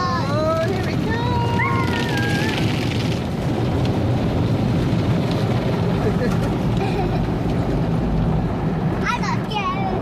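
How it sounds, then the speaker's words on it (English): An automatic car wash works over a car, a loud, continuous churning roar of spinning rollers and spraying water heard from inside the vehicle, with children's voices and excited talk throughout. "It's washing the front of the car."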